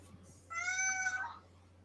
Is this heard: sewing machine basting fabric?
no